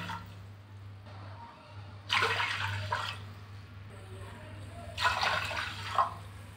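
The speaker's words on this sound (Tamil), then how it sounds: "3 கப்பு தண்ணி சேர்க்குறேன்." Water pours into a pressure cooker holding rice for curd rice, arriving in two close splashy bursts with a quiet pause between, over a low steady hum in a home kitchen.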